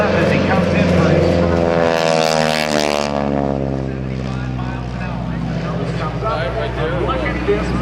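A propeller airplane with a Hamilton Standard propeller, its tips going supersonic at about 2,700 rpm, roars past loud and close at an airshow, the pitch sliding downward as it passes, while an announcer talks over the noise.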